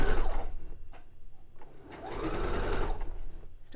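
A sewing machine runs gathering stitches along a dress made from bed sheets, in two close, loud bursts of fast whirring separated by a short lull, with no talking.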